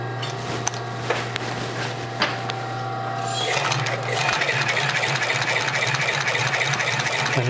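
A leather stitching machine in a saddle shop starts with a few scattered clicks, then settles into a fast, steady mechanical whir over a constant motor hum, heard up close.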